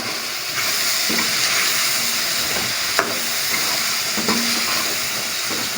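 Lauki (bottle gourd) frying in a pan with black pepper, salt and turmeric sizzles in a steady, close hiss, with a few soft stirring clinks and scrapes along the way.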